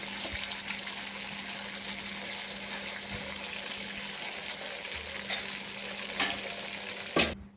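Unniyappam batter frying in oil in a multi-cavity appam pan, a steady close sizzle throughout with occasional faint clinks and stirring scrapes.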